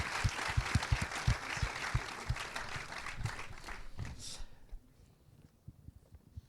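A live show audience in a cinema claps in a dense burst with a few sharp, loud hand claps nearby, then the applause thins and fades to sparse claps near the end.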